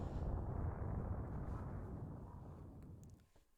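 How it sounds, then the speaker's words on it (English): A large explosion in the Super Metroid video game, a loud sustained rumbling roar that fills the sound and slowly fades away over several seconds, with no talking. "God, I love that explosion so much."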